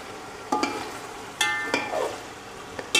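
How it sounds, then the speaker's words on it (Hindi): Chicken biryani masala being stir-fried in a pan, a low sizzle broken by several sharp metallic scrapes and clanks of a spoon against the pan, spaced irregularly. "अच्छी तरह से इसकी भुनाई कर लें।"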